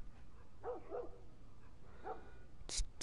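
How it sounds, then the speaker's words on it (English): A dog in The Last of Us video game gives a few short, moderately close barks: two quick yaps together, then a single bark after a pause, over a quiet background, followed by a brief sharp click. "Do we have a dog?"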